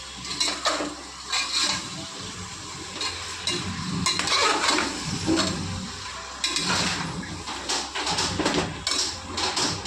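A spoon scrapes and stirs goat-head mutton curry in a pot, making repeated close scraping and clattering strokes over a soft bubbling sizzle, with no one speaking.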